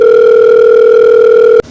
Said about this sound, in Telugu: సరే అయితే ఫోన్ చేయి. చేస్తున్నా. రింగ్ అవుతుంది.